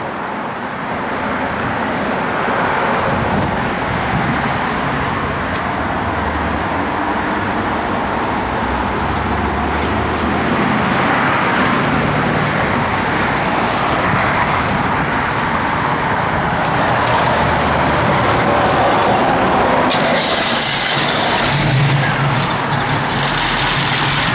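A 1968 Pontiac Firebird convertible with a noticeable cam drives along a road, its engine and tire roar steady and loud for the full stretch, with no voices.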